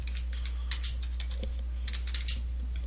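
Keys clatter on a computer keyboard in a short burst of quick taps, close by, over a steady low electrical hum.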